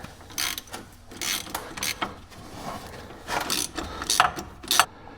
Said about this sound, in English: we're going to go back down to the bottom bolts here and we're going to snug these up and then we'll torque these